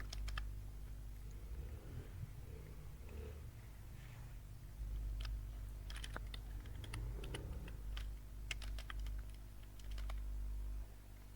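Keys clatter on a computer keyboard while someone types filler entries into a Microsoft Excel sheet, the clicks coming in irregular bursts over a low steady hum, fairly close and moderately loud.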